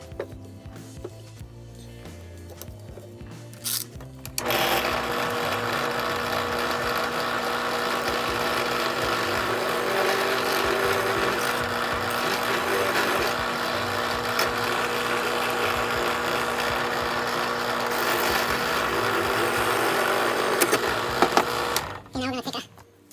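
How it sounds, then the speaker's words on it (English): A power drill bores a hole into a brass .223/5.56 bullet casing, a steady high whirring grind that runs for about fifteen seconds after a few seconds of quiet handling, then stops abruptly. "we're going to drill this out"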